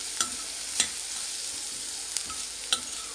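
Onions with salt and turmeric frying in a pan give a continuous bright sizzle, broken by a few sharp spoon taps as they are stirred, close and steady with no voices.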